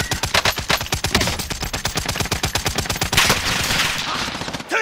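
Rapid bursts of automatic gunfire ring out from a multiplayer shooter match, loud and close, with dense repeated shots forming a steady rattling rhythm that turns into a heavier, blended roar toward the end.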